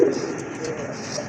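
A female pigeon and others nearby give low, soft coos beneath a steady murmur of voices, close but quiet.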